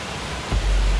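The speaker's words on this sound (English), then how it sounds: "But this is the waterfall." A small waterfall pours over a little drop near a cliff on a bike ride, a steady broadband rush close by that swells louder halfway through the short stretch.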